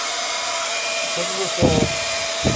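A Dyson cordless hair dryer runs on its warm setting with a steady, close whirring rush of air that holds for the whole short stretch, broken by a couple of brief, soft bumps.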